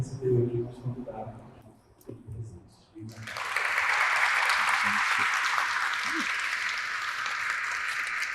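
Warm applause from a lecture audience welcoming a guest speaker, a sustained wash of clapping that starts suddenly after brief talk and continues steadily to the end.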